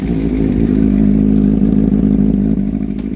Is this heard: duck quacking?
no